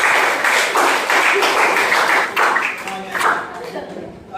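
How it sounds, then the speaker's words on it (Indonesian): A group of people claps hands in a classroom during a teacher training performance test, a burst of uneven clapping that thins and fades out, with voices talking underneath. "sekali lagi tepuk tangan untuk kita semuanya"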